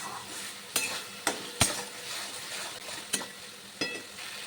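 Spice paste fries in oil for potol chingri, pointed gourd with prawns, a soft steady sizzle broken by about six sharp scraping strokes of a spatula against the pan, with no voices.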